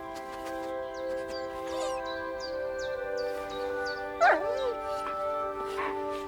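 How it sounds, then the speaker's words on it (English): A dog in the medieval game Kingdom Come: Deliverance 2 whimpers and yips a few times over a sustained musical score, with one louder bark-like yelp midway. "Finally, my dog."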